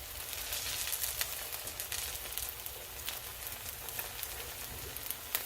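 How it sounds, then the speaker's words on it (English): Squash pancakes fry in oil in a pan over medium heat, giving a soft, continuous crackling sizzle with small pops scattered throughout, nearby and fairly quiet. "So I'm just cooking it on medium heat."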